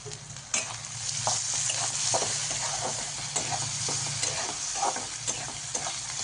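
Tomato, turmeric and ginger-garlic paste stir-fried in oil, heard as a continuous close sizzle with irregular scraping stirs of a spoon in the pan.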